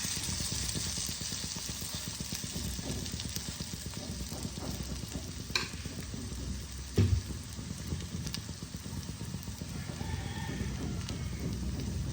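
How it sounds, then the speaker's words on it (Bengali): Rice flour batter frying in a pan for patishapta pitha, with a steady soft sizzle throughout, occasional scraping and stirring clatter and a brief thump partway through. "আবারও একটা ভেজে দেখাচ্ছি। এই দেখো 2 হাতা ব্যাটার দিয়ে দিলাম।"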